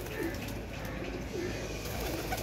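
Pigeons kept by a hobby breeder coo softly in repeated low, rounded calls over a steady quiet background hum.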